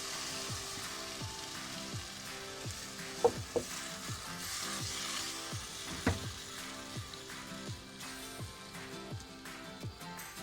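Homemade summer tomato sauce sizzling and frying in a pan for soup, a steady crackling hiss with a few sharper spits and stirring knocks, close and moderately loud, no talk.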